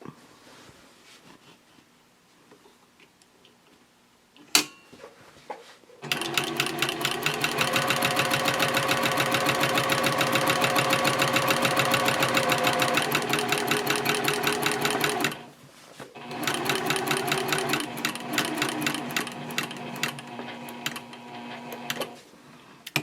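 A sewing machine stitching a quilted A5 journal cover runs in a loud, fast, even rhythm for about nine seconds, stops briefly, then stitches again for several more seconds, close up.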